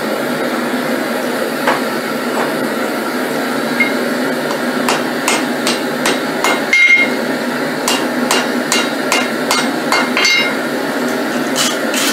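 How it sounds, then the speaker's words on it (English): A hammer strikes a Damascus steel billet during forge welding, a series of sharp metallic clinks at an irregular pace over a steady background roar, loud and close. "I just want nice light taps to make sure that all the steel's touching together"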